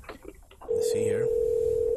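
An outgoing telephone call's ringback tone comes in as a steady, unbroken electronic tone after a brief stretch of faint voices, then holds loud and clear to the end.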